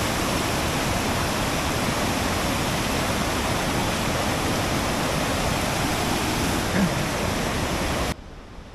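Mountain stream in Romania rushing beside a hiking trail, a loud, steady broadband roar of flowing water filling the whole clip before cutting off abruptly near the end.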